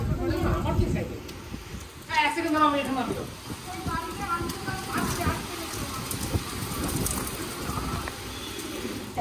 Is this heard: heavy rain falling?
yes